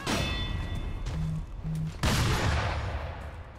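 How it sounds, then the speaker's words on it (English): Gunfire from an enemy in the video game Sekiro, a few sharp reports over a steady bed of game noise and low rumble, with one heavy burst about halfway through. "He's shooting me right now."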